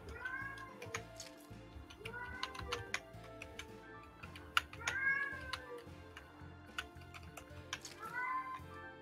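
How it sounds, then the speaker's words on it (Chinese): A pet cat meows several times in drawn-out, rising and falling calls, spaced a couple of seconds apart, over steady clicking of a computer keyboard close by, with no speech. "你听到猫猫叫"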